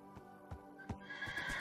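A Minecraft horse on Xbox 360 whinnies while hooves clip-clop in a few spaced thuds, fairly quiet with no talking.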